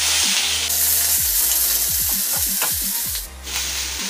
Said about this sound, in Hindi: आलू डाल करके फिर भून लेंगे।